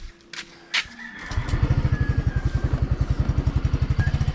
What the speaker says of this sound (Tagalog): Sakay na lang kami ng motor ni ate.